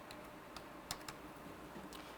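Password keys tapped on a computer keyboard at a login screen, a sparse handful of faint clicks spread over steady background hiss, no talk.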